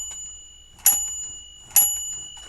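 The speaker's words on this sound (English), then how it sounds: "This also has a pretty good bell on it." A typewriter's carriage-return bell dings twice, about a second apart. Each strike is bright and loud with a ringing metallic decay, heard close with nothing else around it.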